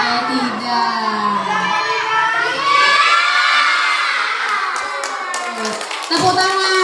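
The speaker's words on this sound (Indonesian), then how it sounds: "Tepuk tangan." A class of children cheer, shout and clap together near a school lesson's close, the noise loud and sustained with high excited voices and some talk mixed in.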